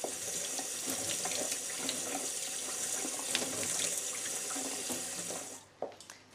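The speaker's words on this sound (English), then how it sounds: "rinse it under the cold tap until the water runs clear" Cold water runs steadily from a kitchen tap over rice in a sieve, a continuous close hiss and splash for about five seconds before the flow is cut off with a few drips and clinks.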